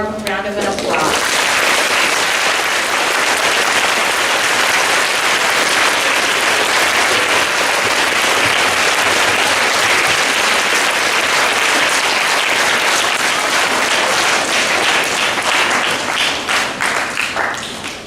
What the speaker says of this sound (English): Please give Mr. Alan Roberts a warm round of applause